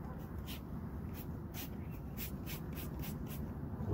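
Cleaner from a dollar-store spray bottle hits gooseneck trailer hub bearings in a string of short, crisp spritzes. The bursts come at an uneven rhythm over a steady low background rumble.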